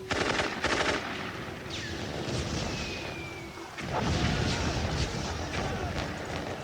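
World War One machine gun fire, rapid rattling bursts of automatic gunfire with booming reports and a sustained battle din, loud and dense throughout.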